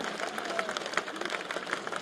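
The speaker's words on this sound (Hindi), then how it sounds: "तालियों की गड़गड़ाहट बजाए" Audience applause at a Bharatiya Janata Party public rally in Shivpuri held in support of Jyotiraditya Scindia, a brief, faint, dense patter of many hands clapping at once.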